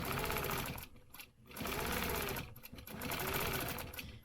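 Sewing machine stitching a quilt square, a close rapid mechanical whir in three runs separated by brief pauses.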